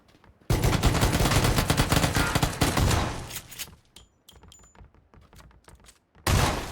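Battle royale shooter game: a long loud stretch of rapid automatic gunfire, close and sustained for about three seconds, then sparse clicks and quieter handling noises before another loud burst at the end.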